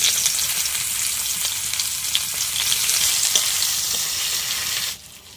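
Dried chillies and onions frying in hot oil, a loud, steady sizzle with occasional stirring scrapes that drops off suddenly near the end.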